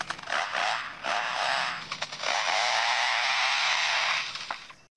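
A lyrebird imitates a chainsaw with loud, buzzy, revving bursts that build into a long sustained rasping whine before cutting off.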